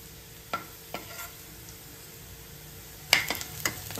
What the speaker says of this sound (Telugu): ఈ ఉల్లిపాయలు బ్రౌన్ కలర్ అయ్యేంత వరకు వేగనివ్వాలి.